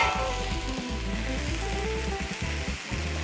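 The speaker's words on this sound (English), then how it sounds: "put a slice of bread down there and just let it soak up all that butter" A slice of pumpernickel bread sizzling as it soaks up melted butter on a Blackstone griddle, a loud, close, steady frying hiss with low pulsing crackle and no voices.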